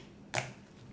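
A single sharp click as homemade slime is stretched, brief and close, with quiet room tone around it.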